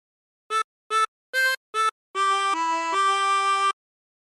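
Short phrase from a song on a chromatic harmonica: four brief, evenly spaced detached notes, then a longer sustained run of three held notes, clear and close with no talking.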